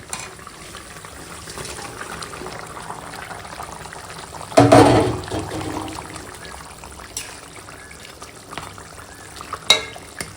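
A thin rohu fish curry broth with ridge gourd and papaya simmers in a pot, a low steady bubbling hiss broken by one louder splashing stir midway and a faint clink near the end.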